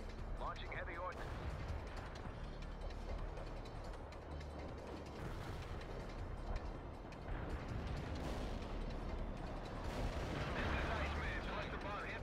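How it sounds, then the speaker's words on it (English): Heavy ordnance in the real-time strategy game World in Conflict pounds away as a sustained wash of distant artillery thuds and mechanical rattling, steady and moderately loud throughout. "Launching heavy ordnance."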